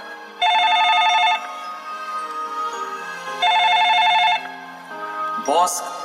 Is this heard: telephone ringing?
yes